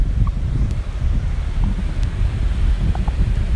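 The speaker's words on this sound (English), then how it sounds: "it's very, very windy." Strong wind buffets the microphone outdoors, a continuous loud rumbling roar with gusty surges and no speech over it.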